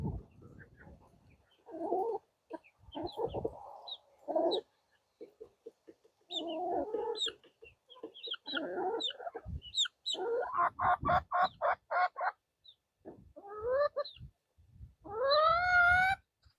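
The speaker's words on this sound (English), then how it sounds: "they're gonna quickly go to work and begin breaking these piles" Hens in a composting yard cluck and murmur in scattered bursts while they scratch apart compost piles, with a run of rapid rhythmic clucks and a drawn-out rising squawk near the end, all close and without talk.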